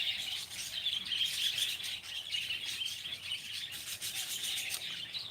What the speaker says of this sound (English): I don't know what the birds are doing, going a bit ballistic in there.